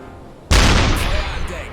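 A deck gun fires a single heavy round in the submarine game UBOAT, a sudden loud booming blast with a rumbling low end that rolls on and slowly fades over the next second.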